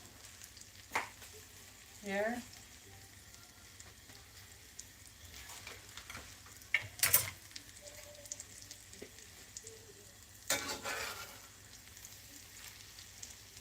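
Machaca of egg and shredded beef with veggies frying in a skillet, a soft steady sizzle with occasional louder stirring scrapes, heard close while someone briefly speaks.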